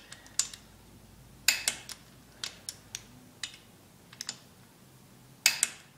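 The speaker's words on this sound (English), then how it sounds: "So now we're torquing down the differential cover bolts." Sharp, clicky metallic snaps come in irregular bursts from a torque wrench tightening the differential cover bolts on a Ford 8.8 rear end to 20 to 25 foot-pounds in a star pattern. The clicks are close and crisp over a quiet background.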